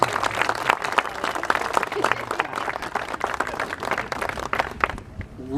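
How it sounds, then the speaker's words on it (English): An audience at a City of Jamestown Riverfront Management Council event applauds steadily, dense clapping filling the room for several seconds before fading out at the end. "Again, he deserves a second round of applause, Billy Stevenson."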